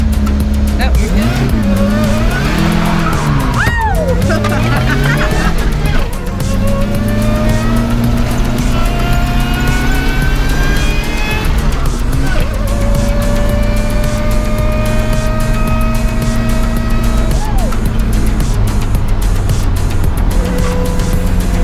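A Pontiac Fiero does a loud, close burnout: the engine revs up and down repeatedly while the tires screech. People talk over the noise.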